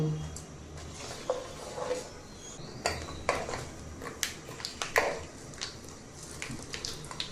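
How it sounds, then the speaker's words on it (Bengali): Panch phoron spices frying lightly in oil as they are stirred in a pan for a raw mango pickle, with soft scraping and tapping against the pan over a quiet sizzle and faint talk nearby. "এবার একটু নেড়ে চেড়ে হালকা ভেজে নিব পাঁচ ফোড়নটা তেলের সঙ্গে ভেজে আমি একটা সুঘ্রাণ বের করে নিব"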